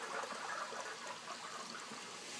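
Water pours steadily into a 150-gallon cichlid aquarium while it is refilled during a water change, a continuous hissing, bubbling rush with no clear breaks, close and fairly quiet, with no voices.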